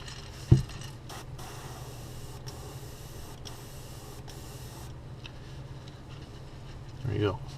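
An aerosol can lightly spray-paints green along the top of a crankbait fishing lure, giving a soft hiss over a few seconds between short louder bursts near the start and end.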